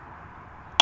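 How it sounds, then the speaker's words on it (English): A torque wrench clicks off once after tightening on an Audi A3 8V oil service, a single short sharp click at the very end after a quiet hum. "I'm going to go in with the torque wrench and wait until it clicks off"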